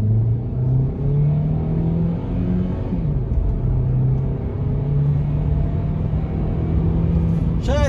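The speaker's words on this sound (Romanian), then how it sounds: "Într-adevăr, motorul e un pic zgomotos în plină accelerație." A Kia XCeed plug-in hybrid's engine drones steadily under full acceleration, a loud continuous rumble with a rising tone, heard from inside the cabin.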